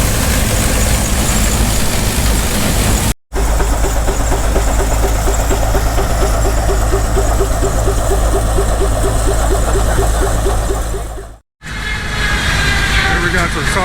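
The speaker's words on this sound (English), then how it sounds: "Here we are, a little bit of threshing going on." An antique threshing machine runs at a pioneer-days farm show, with a loud, continuous mechanical rumble, rhythmic clatter and engine drone that fill the whole stretch, interrupted by two brief gaps.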